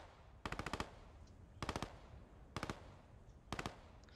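Gunfire in the video game Post Scriptum, four short automatic bursts of about five rapid shots each, spaced roughly a second apart and moderately distant.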